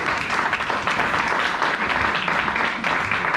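A church congregation applauding the mothers, steady dense clapping from a crowd filling the room at full volume throughout.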